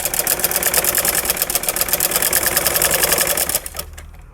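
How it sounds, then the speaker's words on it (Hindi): An electric sewing machine stitches fabric for a salwar, giving a fast, steady mechanical whir with rapid needle clatter. The loud, even run lasts about three and a half seconds, then stops abruptly and leaves only a faint tail. "इसके अंदर इस तरह से रख के इसके ऊपर हम सिलाई लगाएंगे"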